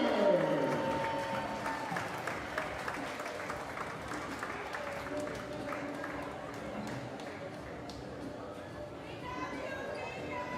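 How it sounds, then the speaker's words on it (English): Crowd at a women's college basketball game between B-CU and Alabama A&M applauding in the arena, clapping strongest at first and tapering to a softer, steady patter. "Ladies and gentlemen, a big round of applause."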